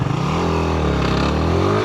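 A motorcycle engine revs up close, its pitch rising steadily as the throttle opens, loud and throaty throughout.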